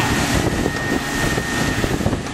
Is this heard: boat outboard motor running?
yes